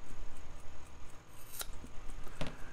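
Sharp scissors snip through a rubber fountain pen ink sac during a vintage 1930s Eclipse Zephyr celluloid lever filler restoration, giving two crisp close cuts against quiet room noise.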